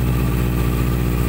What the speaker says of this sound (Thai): เสียงท่อดังแบบนุ่มๆเลยนะครับ